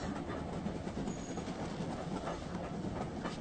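Train carriage rolling along the rails as a radio drama sound effect, a continuous rumbling clickety-clack at moderate level with no voices over it.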